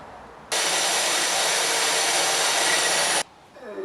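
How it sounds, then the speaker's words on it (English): Power drill boring a hole through a wall to run ethernet cable, a loud, steady broadband whir that starts abruptly, holds for about three seconds, then cuts off, heard close and alone. "So just on the other side, the hole I've just drilled."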